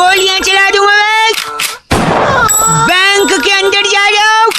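Gunfire sound effect played during a comedy prank phone call, one brief harsh blast in the middle, with loud talking over the line before and after it.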